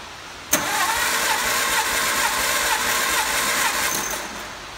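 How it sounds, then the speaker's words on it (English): The engine of a 1954 MG TF is cranked over by the starter during a cold compression test, a steady rhythmic churning that starts abruptly and runs for about four seconds, close and fairly loud. "I'm gonna crank it over and find out what kind of compression we have"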